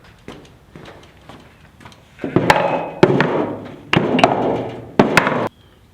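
Heavy blacksmith hammers and metal tools being pulled from a truck bed, heard as a series of close, loud thuds and clanks with rummaging and scraping between them.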